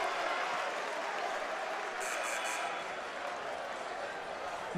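A basketball crowd at a Saint Peter's versus Fairfield men's game keeps up a steady wash of applause and murmur during a timeout, even and moderately loud, with a brief higher burst midway and no clear talking.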